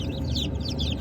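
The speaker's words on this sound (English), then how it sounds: "You checking on those little chicks? They're just all being hatched all over the place." Newly hatched chicks on hatching day, with a rooster and hens nearby, give a steady stream of close, overlapping peeping and clucking for a full second.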